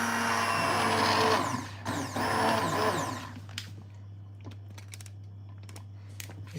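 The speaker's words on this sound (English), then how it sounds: "I'm going to put it in the blender and blend it out" A blender whirs loudly while pureeing butternut squash soup, running steadily for about three seconds with a brief dip, then stopping and leaving quieter clicks and handling noises.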